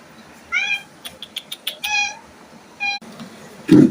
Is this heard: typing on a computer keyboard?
no